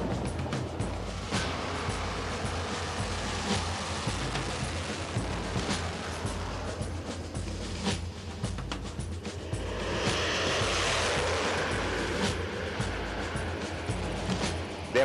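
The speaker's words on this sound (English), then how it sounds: "Jaguars generally wheel down the runway at almost 300 kilometers per hour before taking off." A SEPECAT Jaguar twin-jet maritime attack aircraft rolling down a runway on takeoff, a continuous broad loud roar that swells and brightens toward the end, with no voices.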